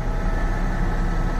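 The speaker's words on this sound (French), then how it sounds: "je me sers du compresseur du tracteur" Compressed air from a tractor's compressor blasts in a steady, loud, broadband hiss, continuous for just over a second with no break or speech.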